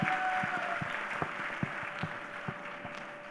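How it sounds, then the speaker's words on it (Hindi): Crowd applause for students at a school event, with scattered individual claps standing out, fairly faint and steady throughout, with a thin sustained tone running underneath. "मैं चाहता हूं आप सभी लोग उनके लिए जोरदार तालियां बजा दें।"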